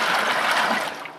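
Water pours into a bucket of chicken brine with a steady, close splashing gush that tapers off slightly at the end.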